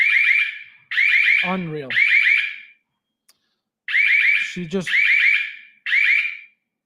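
A smoke detector shrieks in a shrill repeating pulsed pattern, loud and close, while a person talks in short exclamations between the beeps.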